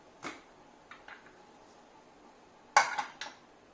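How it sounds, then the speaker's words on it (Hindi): Pressure cooker lid being opened after cooling while making Sindhi Sai Bhaji, with a few sharp metallic clanks and clinks of the lid and pot, close and otherwise quiet. "चलिए, अब कुकर ठंडा हो चुका है। कुकर को हम खोलते हैं।"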